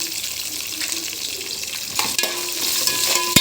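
Green and dry chilies frying in a pan, a steady close sizzle running throughout with a few scrapes of a utensil near the end, and no talking.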